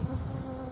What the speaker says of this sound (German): dieses blöde Wespenteil